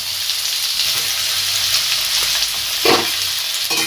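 Sliced onion and tomato fry in oil in a pan, giving a steady, close hiss with a brief louder stirring scrape near the end.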